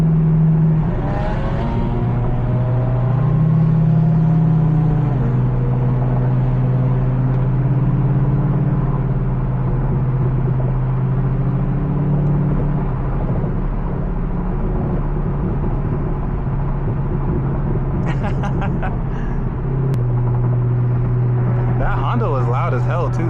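Loud car engines idle and rumble at a night car meet with an NSX, BMW M4 and C5 Corvette, a steady deep drone with occasional revs throughout while people talk over it.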